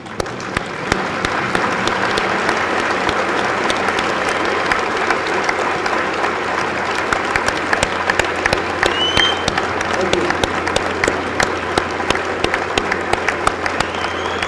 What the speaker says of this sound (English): Can we all just stand up and give the veterans one more round of applause?